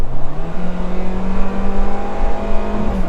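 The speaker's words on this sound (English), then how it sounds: "The engine note is noticeably louder" A Kia Cerato GT Line engine in sports mode holds a loud, steady drone that climbs slightly in pitch, heard from inside the car with road rumble underneath and no talking.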